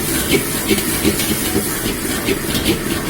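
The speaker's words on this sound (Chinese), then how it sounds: "下入花菜，慢炒" Cauliflower stir-fried slowly in a wok with Laoganma chili sauce, cooking wine, and mild and bird's-eye chilies, a steady hiss broken by quick, regular spatula clacks, roughly three each second.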